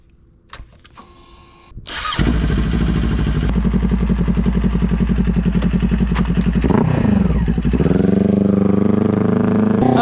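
A motorcycle on Mercer Island starts up after a few clicks, then its engine settles into a loud, close, rhythmic idle and revs as it pulls away on a ride, with no voices.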